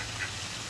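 A brief, faint duck quack comes through steady outdoor background noise at a duck-feeding spot.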